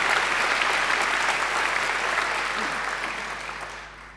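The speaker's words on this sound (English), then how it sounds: "I think she deserves another great round of applause." A large graduation ceremony audience gives a round of applause for a singer, dense and steady clapping that fills the hall before gradually thinning out and fading toward the end.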